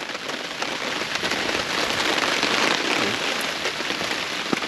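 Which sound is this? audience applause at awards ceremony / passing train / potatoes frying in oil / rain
rain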